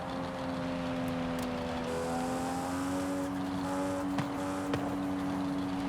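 A powerful Japanese car drifts on a wet summer road in the racing game Forza Horizon, its engine holding a steady, loud drone with shifting pitch as the revs rise and fall, with no talking.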